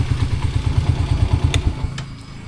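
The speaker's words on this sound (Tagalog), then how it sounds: "patayin ko muna yung ating motor," A warmed-up motorcycle engine idles with a rapid low throbbing pulse, loud and close, then cuts out and leaves a couple of faint clicks and a quiet tail.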